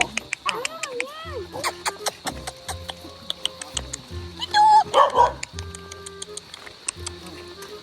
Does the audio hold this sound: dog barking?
yes